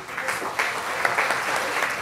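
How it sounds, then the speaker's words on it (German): Audience applause at an Oktoberfest event, a steady wash of many hands clapping at moderate volume, with faint voices mixed in. "Vielleicht einen Applaus."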